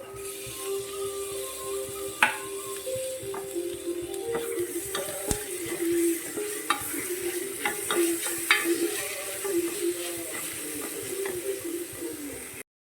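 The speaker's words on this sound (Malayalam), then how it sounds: "ഈ ചതച്ച് വെച്ചിരിക്കുന്ന ഇഞ്ചി വെളുത്തുള്ളി പച്ചമുളക് ചേർക്കാം" Crushed ginger, garlic and green chilli fry in a pan for chicken rice, giving a continuous close sizzle with scattered pops and scraping stirs, some faint background noise, no talk.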